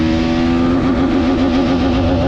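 A 2021 Bajaj Pulsar NS200 motorcycle engine accelerates through the gears, a loud, steady, close buzzing roar with a rising, wavering pitch throughout and no talking.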